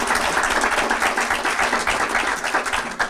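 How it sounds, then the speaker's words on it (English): An audience at an educator awards ceremony applauds a pre-K teacher, a full, even round of clapping that fills the room continuously from start to finish. "Give Ms. Glass another round of applause."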